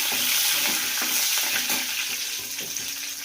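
Homemade green paste hitting hot oil for a bitter gourd gravy, giving a loud, steady hiss and crackle of frying with light stirring scrapes throughout, no voices.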